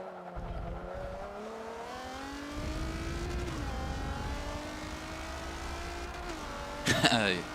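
A Nissan GT-R race car in Forza 7 drones steadily at high revs with rising engine pitch, a loud burst near the end, and talk over it.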